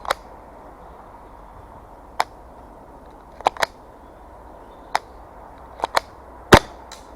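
An airsoft gun fitted with a tracer unit fires on semi-auto in daylight, giving a handful of sharp, isolated snapping shots spaced irregularly over a quiet outdoor background, with a misfire among them.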